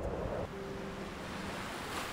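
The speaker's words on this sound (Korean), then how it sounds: "언제나처럼 바닷물은 제 시각에 맞춰 밀려옵니다." Sea waves wash in with the incoming tide as a continuous broad surf hiss, steady and close, with some wind noise on the microphone and no voices.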